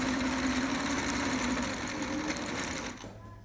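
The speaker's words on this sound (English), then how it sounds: "do a top stitch at about 1/4 inch all the way around" Sewing machine running steadily while top stitching a quarter inch around a trapper hat, a close, even mechanical whir that keeps going and then stops near the end.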